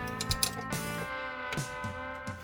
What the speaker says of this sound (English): Let's go ahead and get these bolts out of the base.